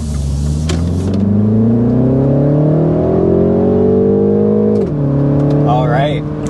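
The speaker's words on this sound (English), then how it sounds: "Up to about 60 miles an hour in this 25 Cooper Convertible S." A 2025 Mini Cooper S Convertible accelerating hard in go-kart mode, its engine note climbing steadily and loudly to about 60 mph, then dipping at a gear change before the revs settle.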